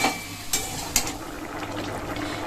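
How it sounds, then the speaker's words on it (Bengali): Eggs frying in a pan for a spice-free curry, a steady sizzle with two brief sharp clinks of a utensil against the pan early on. "তো চলো এখন ডিমটা দিয়ে ভালো করে ভেজে তরকারিটা করে নিই"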